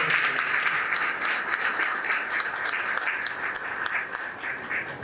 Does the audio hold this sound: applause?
yes